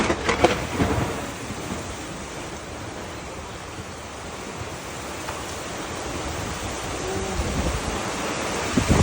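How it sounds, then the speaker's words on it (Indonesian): Heavy rain with strong wind at Caringin market in Bandung, a loud steady roaring wash with rumbles of thunder near the start and end, and no talk. "Hujan gede, hujan gede."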